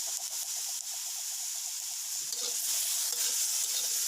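Tomatoes roast and sizzle in a pan for egg curry, a close steady hiss of frying with occasional stirring scrapes and small pops, no one speaking.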